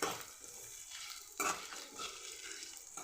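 Masala spices dry-roasting in a pan as they are stirred, giving a soft steady sizzle and scraping with a brief louder clatter midway. No voices are heard.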